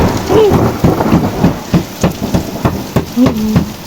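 Heavy rain patters steadily while sharp, closely spaced cracks and low rumbles of thunder pulse through, loud and near.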